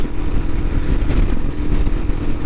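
A Royal Enfield Himalayan 462 motorcycle cruising on the highway at about 70 mph near 5,000 RPM, a steady loud engine drone with wind rush, no pauses or talk.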